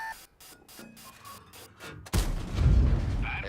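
A tank cannon fires in World of Tanks, a loud sudden boom with a broad rumbling tail that rolls on after a quieter lead-in of game sounds.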